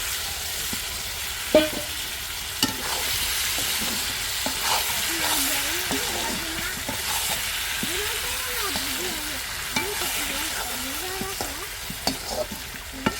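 Spice paste (masala) fried with meat in a pan, a steady hiss and sizzle with occasional scrapes and knocks of stirring, while voices talk intermittently over it.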